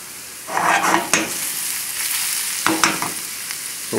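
Food cooking in a pan during preparation of crawfish-stuffed lemon sole, a loud close sizzle with bursts of stirring and scraping, no voices.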